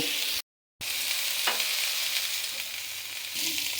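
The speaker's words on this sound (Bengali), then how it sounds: "শুধু লবণ দিয়ে একটু ভেজে নিব।" Long flat beans fry on a tawa with only salt, a loud, steady sizzle close by, with a brief silent gap early on and a few soft stirring knocks.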